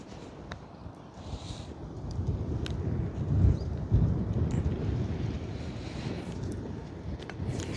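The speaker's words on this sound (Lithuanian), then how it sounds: "Jo, vėjas tai tikrai labai nemalonus." Strong, gusty wind blows at a campsite and buffets the microphone with a deep, rumbling roar that swells in the middle and keeps churning throughout, with no one speaking.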